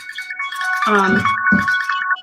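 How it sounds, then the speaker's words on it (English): A mobile phone rings with a repeating electronic ringtone, steady and fairly close, while a person talks over it partway through. "Sorry, my phone's ringing."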